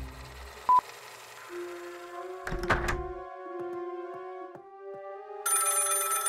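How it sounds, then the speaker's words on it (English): A cartoon telephone rings with electronic chimes and dialing-like tones, mixed with a thunk and sustained musical notes, ending in a bright buzzing burst. "answer the phone!"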